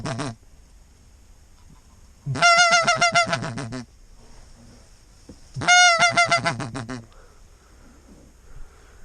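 Geese honk loudly in flight, two separate bursts of repeated calls coming close and overhead, with quiet outdoor background between them and no talking.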